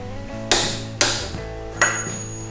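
A ratchet tightens the axle nut on a Harley-Davidson Iron 883 Sportster, three sharp metallic clicks and clanks about half a second apart, close up, each ringing briefly before fading, with no voice.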